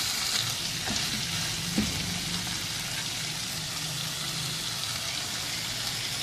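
Keema, potato and capsicum cubes frying in a pan, a steady sizzle with soft scraping as the mixture is stirred, close and continuous with no talking.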